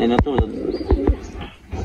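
Racing pigeons coo softly in short, low throaty bursts while someone talks over them nearby.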